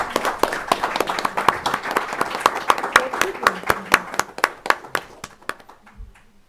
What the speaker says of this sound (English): Can we have a big round of applause, ladies and gentlemen, for them?